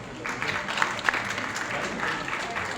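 Audience of about 200 students applauding at a University of Karachi educational summit seminar: sustained clapping from a crowd in a hall, with a few sharper claps standing out and faint voices mixed in.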